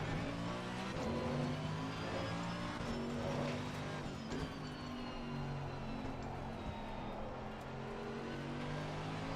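A Lamborghini GT3 race car engine in a racing game at Barcelona, droning steadily with layered engine tones and shifting pitch, other cars' engines blending in throughout.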